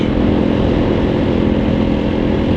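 A Halcyon 250 motorcycle engine runs loud and close on a road ride, its steady mid-pitched exhaust drone holding constant throughout with no voices.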